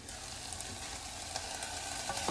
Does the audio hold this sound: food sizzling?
yes